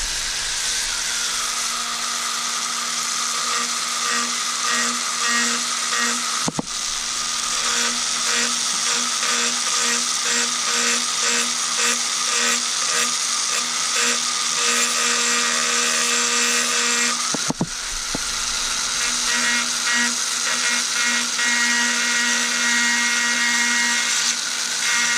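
A rotary tool grinding a bevel onto a blade gives a loud, steady high-pitched whine that runs almost continuously, cutting out briefly twice before spinning back up.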